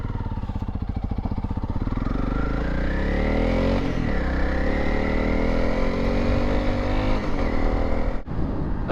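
A motorcycle rides along a highway, its engine droning steadily and loudly up close, with the pitch rising through acceleration and long wind-rushed cruising and a brief dip near the end.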